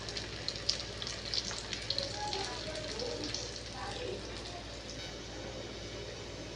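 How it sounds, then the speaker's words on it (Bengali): Oil sizzles and crackles steadily as flatbread fries in a pan, a constant hiss with scattered small pops throughout. "এবার এর মধ্যে আমি পরোটাটা ছেড়ে দিচ্ছি। এটা হালকা আছে ভেজে নিতে হবে।"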